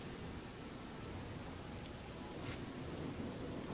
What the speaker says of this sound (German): Natürlich regnet es wieder, wie immer.